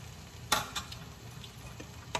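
Shrimp filling for banana-leaf-wrapped tapioca dumplings frying over low heat in a pan, a soft continuous sizzle broken by a few sharp utensil scrapes and clicks, fairly close and quiet, with no talking.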